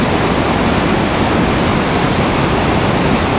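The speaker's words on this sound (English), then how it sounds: "Well, we just came up to this real gusher." A rushing mountain creek gushing out of Lake Louise in Banff National Park, a loud, dense, unbroken roar of white water heard close by with no voices.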